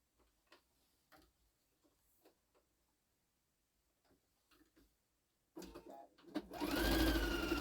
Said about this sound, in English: you just sew it 1/2 inch, right sides together